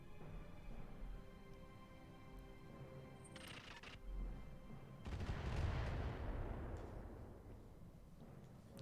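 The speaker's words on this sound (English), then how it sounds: "2 rounds of getting shot at by whatever artillery they're using" Artillery fire in a Battletech Roguetech mech battle, with a few shots and then a heavy, rumbling barrage that swells and fades over several seconds, over a low hum with no talk.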